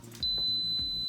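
A pressure pot gives a single steady electronic beep to signal that cooking is done, loud and close, lasting about a second under a low background hum.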